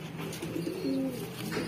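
A pigeon in a loft of Saharanpuri and Allahabadi flying pigeons gives soft, low, rolling coos, steady and fairly faint against a quiet background.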